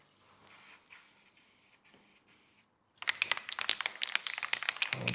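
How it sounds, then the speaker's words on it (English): Rust Encapsulator aerosol primer sprayed from a can onto front-end parts of a 1969 Ford Mustang under restoration: several short hissing bursts, then a denser stretch of crackly, rattling spray noise, close and fairly loud. "I'm going to shake that can up and we're going to give them like a little light coat."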